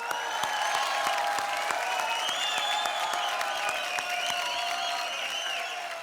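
Studio audience applause for a performer on a Hindi TV comedy show, loud and sustained across the whole stretch with steady dense clapping and crowd noise, a few sharper claps standing out.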